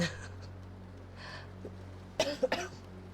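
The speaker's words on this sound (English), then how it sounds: "These coughs keep like coming out of nowhere" Several short, sharp coughs from a streamer close to the mic, bunched in a quick burst near the end after a quiet stretch with faint breathing.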